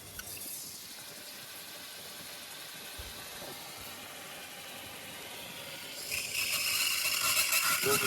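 A small engine-driven pesticide sprayer runs steadily on a farm, a constant mechanical drone with hissing spray that grows louder and brighter toward the end as the pressure builds.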